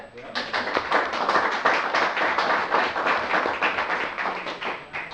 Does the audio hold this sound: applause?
yes